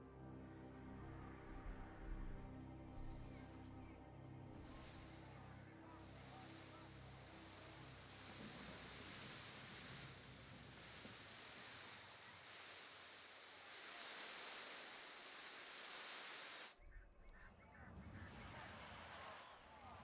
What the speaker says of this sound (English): There's a really loud sand noise there for some reason.